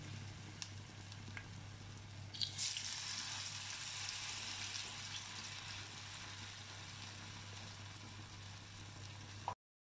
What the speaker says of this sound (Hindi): एक पैन में इसको मैंने घी डाल दिया है और ये मैं इस तरीके से भी फ्राई कर लूँगी।